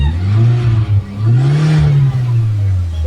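A Toyota Corolla's non-turbo 4E engine idles close by, then swells in two revs as the throttle is blipped, a steady low hum rising and settling.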